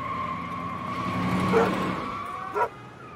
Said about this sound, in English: I heard the dog barking and then the car